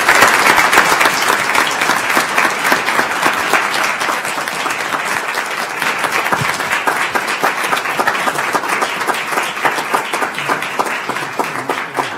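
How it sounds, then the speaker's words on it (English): Sustained round of applause from the audience at a county commissioners court meeting in El Paso County, dense and loud, continuous clapping lasting the whole stretch with no voices. "Round of applause."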